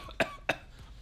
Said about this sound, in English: I just coughed in your direction